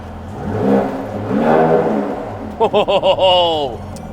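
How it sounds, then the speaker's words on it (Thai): A Mercedes-Maybach GLS600 in Sport+ driving mode revs with a swelling exhaust roar, then gives a quick string of pulsing rises and falls, heard loud and close. "เสียงท่อเมื่อสักครู่นี้"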